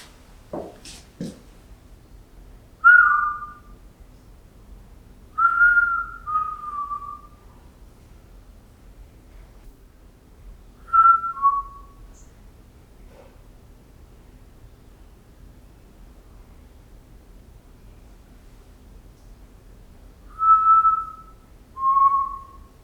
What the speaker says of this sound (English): Can you hear whistling again?